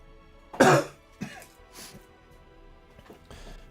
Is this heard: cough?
yes